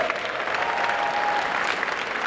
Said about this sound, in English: Give Willie Ray a round of applause